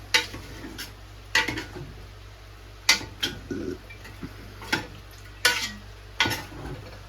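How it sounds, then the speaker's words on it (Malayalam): A curry frying in a pan as garam masala is stirred in: a soft sizzle under sharp, spaced metal spoon knocks and scrapes against the pan, repeated about every second, with no talking. "അതിട്ടിട്ട് നല്ലോണം ഇളക്ക്"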